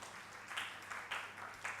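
Faint applause from an audience at a Jain religious discourse swells in several soft bursts, distant and low, beneath the room's steady hum.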